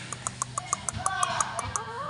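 Chickens kept behind a house cluck in a quick, steady series of short notes, moderately close, with a low background rumble and no talking.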